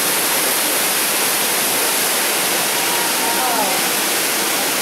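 Peguche Falls in Ecuador cascading into its pool, a loud, steady, broadband roar of rushing water filling the whole clip without pause.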